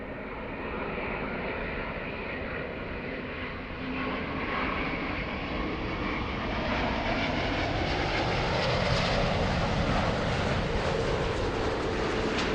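Airliner on a runway at Los Angeles airport, a loud continuous jet roar that swells slowly and rises in pitch over the whole stretch, steady and close with no voices.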